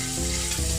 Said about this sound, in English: Add the guanciale and start frying it.